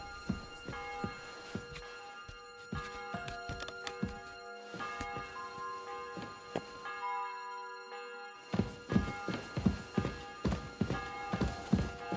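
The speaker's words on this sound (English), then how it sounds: "The bell's ringing for Hans the 5th time." Repeated bell tones ring out with sustained overtones over a busy background of knocks and thuds in the video game Kingdom Come: Deliverance II, with a brief quiet gap before clattering resumes.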